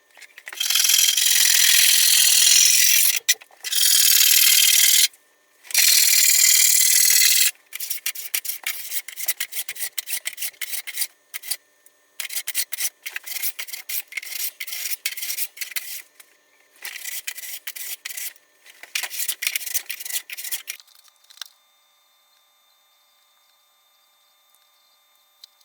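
A snowboard base is waxed with harsh, close rubbing and scraping strokes, first in long continuous passes, then in quicker, choppier strokes before stopping into near silence.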